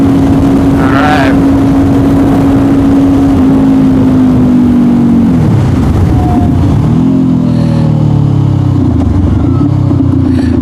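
A Honda CBR500R motorcycle cruises at night with a loud, steady engine drone and heavy wind rush throughout, the engine pitch dipping and rising as the rider shifts gears.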